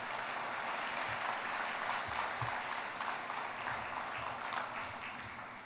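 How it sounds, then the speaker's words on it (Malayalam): Church congregation at a sermon clapping hands together, a continuous soft patter of many hands heard from a distance, with no talk over it. "ഒന്ന് കൈ ഉയർത്തി കൈയടിച്ച് കർത്താവിനെ ബന്ധപ്പെടുത്തുക"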